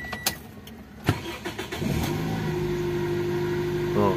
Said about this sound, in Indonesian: Ini mesin masih nyala nih.